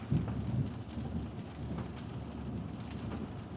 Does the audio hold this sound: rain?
yes